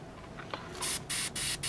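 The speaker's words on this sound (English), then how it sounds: "just testing the spray of the airbrush before I hit the miniature." An Iwata Revolution HP CR airbrush sprays a test burst of thinned paint before a miniature is painted: a faint click, then three close, loud bursts of hissing spray broken by short gaps.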